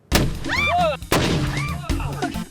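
A cannon built of leather fires with a sharp, loud blast, and a second powerful boom follows about a second later, each decaying into rumble, with a shout of excitement between them.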